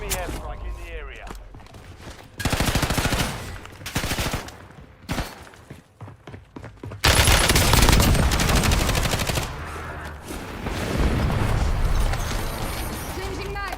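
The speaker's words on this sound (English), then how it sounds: "Enemy airstrike in the area." An enemy airstrike and gunfire in the shooter game Warzone: bursts of rapid machine-gun fire and loud, dense blasts come in waves. Quieter gaps fall between them, and voice callouts are heard in the mix.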